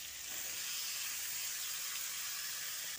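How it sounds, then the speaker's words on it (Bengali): Ridge gourd frying in spice paste over high heat, a steady, even hiss of sizzling moisture, moderately faint and unbroken, with no voices. "ঝিঙেটা দিয়ে হাই হিটে বেশ খানিকক্ষণ ঝিঙেটাকে মশলার সঙ্গে এভাবে কষিয়ে নিচ্ছি।"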